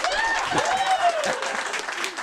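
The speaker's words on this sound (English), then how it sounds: "Round of applause for Aura Interactor" Applause from an audience, a steady wash of clapping lasting a couple of seconds, with voices mixed in.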